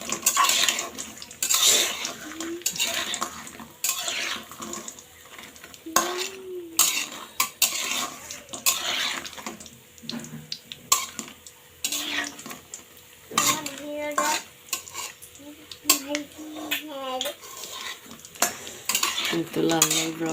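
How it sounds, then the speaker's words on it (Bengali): Pumpkin lentil dumplings (kumro bori) deep-frying in oil, with a steady sizzle broken by frequent clinks of a metal spoon stirring against the pan throughout. "এটা এখন লাল লাল করে সুন্দর করে ভেজে নিব"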